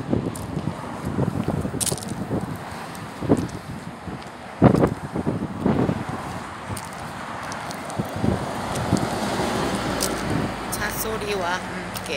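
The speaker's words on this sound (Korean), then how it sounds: "차소리와 함께." Car traffic passes along a roadside next to a plant nursery, a steady wash of road noise mixed with wind buffeting the microphone, with a rising engine whine near the end and a voice talking over it.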